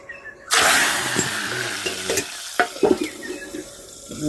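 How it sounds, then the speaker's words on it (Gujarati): Hot vaghar tempering hits cooked dal in a pot with a sudden loud burst of sizzling that settles into a steady hiss, with a few clanks and stirring knocks nearby. "મિત્રો આ રીતે વઘાર છે"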